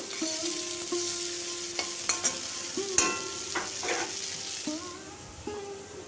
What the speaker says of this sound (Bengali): দিয়ে চিংড়ি মাছগুলো হালকা ভেজে নেব